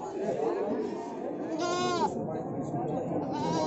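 Female kid goats at a livestock market give a single wavering bleat partway through, heard close over a steady murmur of people talking nearby.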